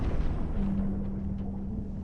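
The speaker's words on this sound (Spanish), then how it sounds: "Una explosión violenta y cataclísmica que lo partió en dos y lo envió al abismo" A deep, rumbling blast as a ship explodes and breaks apart, heavy low boom rolling on with a droning tone, loud and alone without voices.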